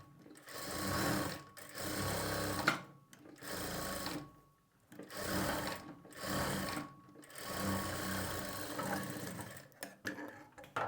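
A sewing machine stitches blouse lining in bursts of fast, whirring chatter, close and clear, stopping and restarting several times with brief quiet gaps between runs.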